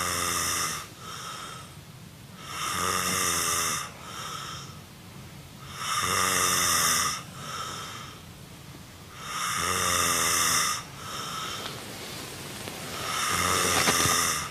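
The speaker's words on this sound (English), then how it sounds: "He snores, and it's terrible." A man snores loudly in deep sleep, each long rasping inhale repeating in a slow, steady rhythm of about four breaths, close and with no talk.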